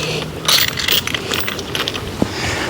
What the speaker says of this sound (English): This is the toolkit I carry on the bike.